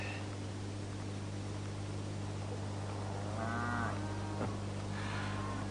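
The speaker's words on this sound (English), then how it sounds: "Someone will be spending a busy day looking for his strayed cattle." Stray cattle lowing at a distance, two or three drawn-out moos rising over a constant steady hum and hiss of background noise.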